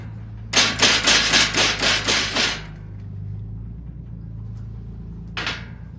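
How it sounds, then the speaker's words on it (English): A 4-pound engineering hammer pounds steel wires into shape: seven quick, evenly spaced metallic blows in a burst, a pause, then one final strike, close and loud. "A 4-pound engineering hammer is used to persuade the wires to take the desired shape."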